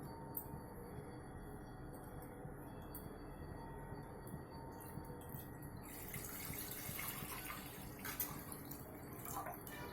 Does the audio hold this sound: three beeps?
no